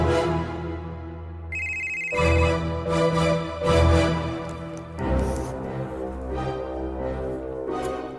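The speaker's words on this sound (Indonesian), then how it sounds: "Maaf, handphonenya bunyi" A mobile phone ringtone plays loudly and melodically, a repeating tune of bright electronic notes that continues throughout without any talking.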